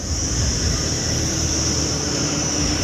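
A tractor engine runs at the Malout tractor mandi in Punjab, a steady, loud, unbroken drone with a constant high whine and no talking.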